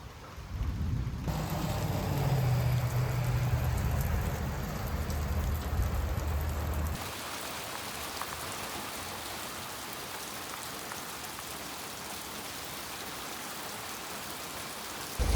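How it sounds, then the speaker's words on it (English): Summer storm rain falls steadily outside a home on a hot, humid Southern day, a soft continuous hiss with a low rumbling surge early that fades to a quieter, even patter. "It is raining."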